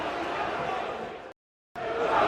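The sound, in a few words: football stadium crowd reacting unhappily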